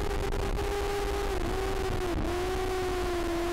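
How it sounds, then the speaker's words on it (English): Yamaha R6 race motorcycle on an on-board flying lap at Oulton Park, engine note held high and steady with brief dips at gear changes, loud and close throughout with no talking. "we start with an on-board flying lap from European Superstock rider Dan Linfoot"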